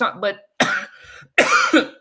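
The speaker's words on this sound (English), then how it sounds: "Are you coughing a lot?" A person coughs in harsh bursts, three rough hacks separated by short pauses, with a faint low murmur between them.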